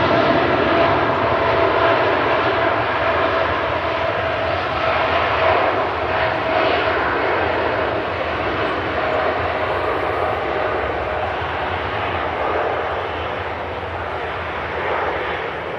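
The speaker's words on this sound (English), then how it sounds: "TUI Dreamliner off to Punta Cana." A TUI Boeing Dreamliner jet takes off from Manchester Airport, a loud, sustained engine roar with a rumbling low end that slowly fades slightly over time as the aircraft climbs away.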